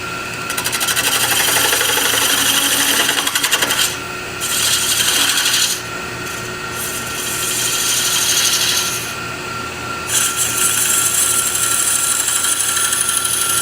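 A woodturning tool cuts a wooden ring box spinning on a lathe, giving a steady, loud rasping scrape with a faint motor hum, broken by a few short pauses as the tool lifts off.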